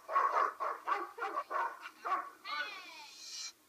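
A Weimaraner barks in a rapid string of sharp, agitated yaps, then lets out a higher drawn-out whine, close and fairly loud.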